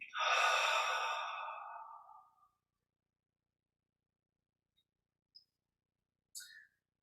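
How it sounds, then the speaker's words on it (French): A deep, relaxed in-breath during guided Kriya Yoga meditation: a long, close, airy inhale lasting about two seconds and fading out, then near silence broken by two brief faint breath sounds. "On prend une grande inspire détendue."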